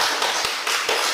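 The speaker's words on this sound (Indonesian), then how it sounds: "Tepuk tangan." Applause welcoming a guest onto a talk show, a few quick, close hand claps in a short burst.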